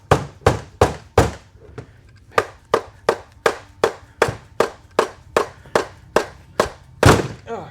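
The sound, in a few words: hammer striking transmission during teardown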